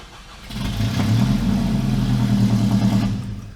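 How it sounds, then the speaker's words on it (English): A supercharged old Toyota truck engine cranks and fires, rising into a loud, steady low rumble close by that holds for a few seconds before easing off. "I'm so excited to maybe hear the supercharger for the first time."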